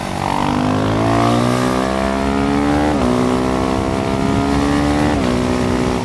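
A KTM Duke 390 motorcycle accelerates hard in a loud, steady engine drone that climbs in pitch. Quick quickshifter upshifts break the rise with brief dips, heard up close with no talk.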